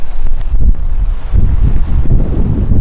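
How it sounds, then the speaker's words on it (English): A strong gust of wind roars through a dust storm in Boise, Idaho, buffeting the microphone with a loud, continuous low rumble for a few seconds, with nobody speaking. "you can see it coming before this gust of wind hits you."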